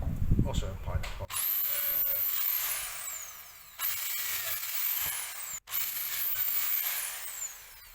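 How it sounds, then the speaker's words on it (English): A power drill whines at high speed boring a pilot hole into a wooden board in a few bursts, after a brief clatter of handling at the start. "I'm going to drill this, also a pilot hole."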